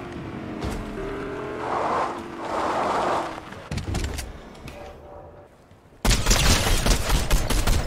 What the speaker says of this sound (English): I just heard shots fired over here